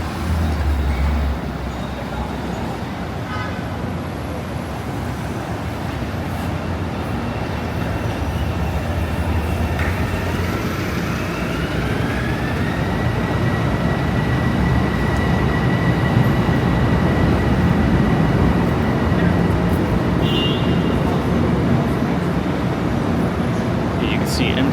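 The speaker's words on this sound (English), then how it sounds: "This is a southbound train, so the next stop here is going to be Grand Central Terminal." A southbound Metro-North commuter train at the elevated Harlem 125th Street station makes a loud, continuous rumble with a rising electric motor whine and a faint high squeal, amid street traffic noise.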